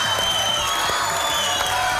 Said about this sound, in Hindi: बस बस बस, थोड़ी तालियां बाकी प्रोग्राम के लिए बचाएं आप